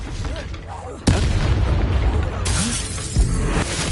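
A Confringo fire spell detonates in the Hogwarts Legacy video game as a sudden loud boom, followed by dense crackling combat noise and a second burst, with voices talking over the din.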